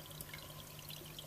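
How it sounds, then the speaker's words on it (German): Water pours steadily out of the overflow of a small home aquaponics tank and drains toward an external filter, a continuous close splashing flow with a faint low hum beneath it. "dass es also aus dem Überlauf wieder rauskommt und wir sehen, okay, es läuft hier durch den Ablauf in den Außenfilter"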